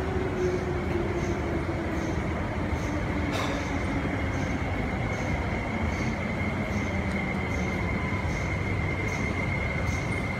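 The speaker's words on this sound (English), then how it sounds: "An 8-car train to Tuen Mun is arriving." A refurbished former East Rail Line train pulls into Siu Hong Station, rumbling steadily with a high wheel squeal that holds throughout, heard from the platform at moderate loudness, without speech.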